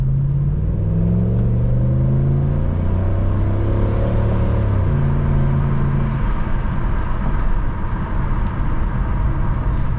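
An Audi S6 Avant wagon drives on the road, its engine a loud, steady low rumble with rising and falling pitch as it accelerates, heavy road noise filling the cabin throughout.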